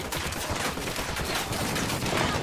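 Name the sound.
gunfire in the video game Ghost Recon Wildlands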